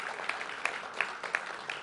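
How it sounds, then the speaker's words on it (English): A small audience at a Buffalo press conference on affordable housing gives a brief round of applause, a steady patter of claps with no voices over it. "So let's give him a round of applause for all he's done."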